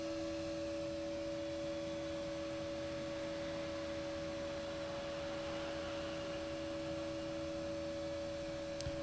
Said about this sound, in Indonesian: Kita nyalakan kipas.